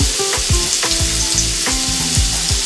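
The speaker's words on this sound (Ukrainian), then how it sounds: "До золотавого стану підсмажуємо і під час смаження будемо додавати борошно." Chicken fillet schnitzel fries loudly in a pan with constant sizzling, while a utensil repeatedly scrapes and stirs in an uneven rhythm.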